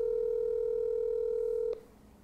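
A single steady telephone tone sounds loud and unbroken for under two seconds, then cuts off abruptly and leaves a quiet tail. It belongs to a phone call from a Portland-area woman to a news station.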